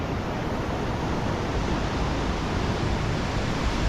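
Water rushes through the wide Narmada canal in Gujarat as a loud, steady broadband roar. It continues unbroken with no voices over it.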